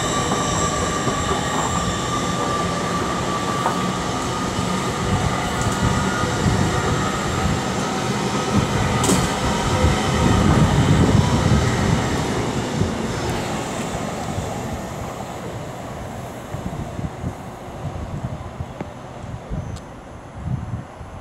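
Class 801 train 801 209 passing through Peterborough on the East Coast Main Line, a sustained rumble and clatter of wheels with high rail hiss, building to a peak midway and then receding, with no talking.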